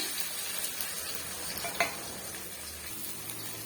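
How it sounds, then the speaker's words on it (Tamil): Seasonings for tomato thokku spluttering and sizzling in hot oil, a dense, crackling fry with small pops and a brief utensil clink near the middle, close up and without speech. "பாருங்க நல்லா வந்து பொரிஞ்சு வருது"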